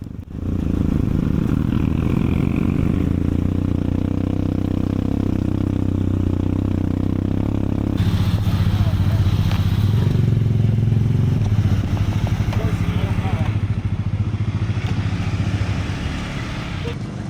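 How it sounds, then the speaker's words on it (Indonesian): Motorcycle riding on a trail toward the trailhead of Mount Sorik Marapi in North Sumatra, its engine droning steadily and loud throughout with rattling clatter, the pitch shifting as it works up the mountain path. "Motornya cuma sampai sini doang, kurang lebih 1 kilo lah ya"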